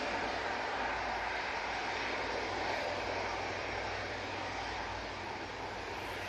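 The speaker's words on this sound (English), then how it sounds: "Next out will be the Jet2 air tanker" A Jet2 Airbus A330-200 air tanker gives off a steady, dense jet engine roar at Manchester Airport, broad and unbroken, slightly easing toward the end, with no talking.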